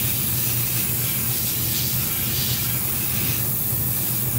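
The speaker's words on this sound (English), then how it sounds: "Get our airbrush." An airbrush sprays paint onto a model ship, giving a continuous, loud, close airy hiss with a low hum running beneath it the whole time.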